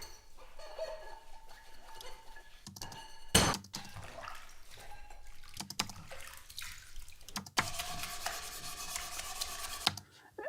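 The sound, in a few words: home recording of someone doing the washing up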